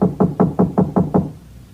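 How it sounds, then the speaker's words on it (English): Six evenly spaced knocks on a house door, close and solid, as a radio drama sound effect, each rap ringing briefly before the last fades into quiet. "But nobody answered my knock."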